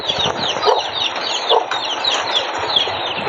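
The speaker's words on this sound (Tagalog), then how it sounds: "Amo aning manok guys." Chickens on an early-morning vegetable farm keep up a busy stream of clucks and short squawks, several birds close by, with a steady low background hum and no speech.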